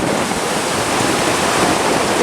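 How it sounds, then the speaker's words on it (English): Rough ocean surf and strong wind at Cherry Grove Fishing Pier in North Myrtle Beach, South Carolina, make a loud, unbroken roar, with waves crashing and wind buffeting the microphone throughout. "the ocean's still pretty rough this evening. It's very windy, as I'm sure you can hear."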